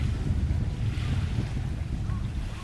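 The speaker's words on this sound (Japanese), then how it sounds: "波の音がね" Small waves lap against the shore of Lake Toya beside a lakeside campsite, a soft continuous wash over a low, rumbling wind noise, steady and fairly quiet with no one speaking.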